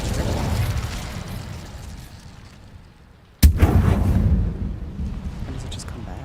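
Incendio fire spell cast in a video game, a sudden loud burst of flame that jumps out after a quieter stretch and keeps roaring and crackling for several seconds, with game music or a voice faintly underneath.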